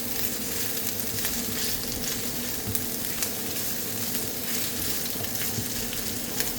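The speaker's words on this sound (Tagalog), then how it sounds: "tayo lang natin siya hanggang sa mag-translucent yung ating onion" Onion sautéing in a pan over a stove gives a steady, dense sizzle and crackle throughout, close and even, with occasional small pops and no voices.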